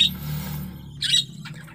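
Pet budgerigar (parakeet), a female mother bird, gives a couple of short squawks and chirps at close range over a low steady background hum.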